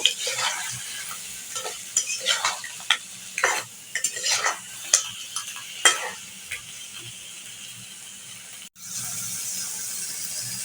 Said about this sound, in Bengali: কাঁকড়াগুলোকে ভালো করে কষাবো